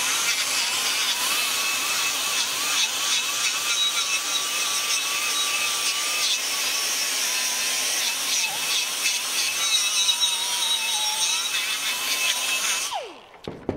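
A brake lathe turns a brake rotor during resurfacing, making a steady close whine with a faint scraping hiss from the cutting bits, running alone until the sound winds down abruptly at the end.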